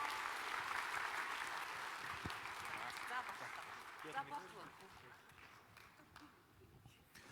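An audience at a panel discussion on pension system reform applauds the panelists with sustained clapping that starts full and gradually thins out and fades, with a few voices audible near the end.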